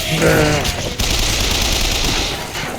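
Rapid gunfire in Bioshock Infinite, a loud, dense, sustained burst of shots that fills the whole stretch, with a brief voice-like sound at the start.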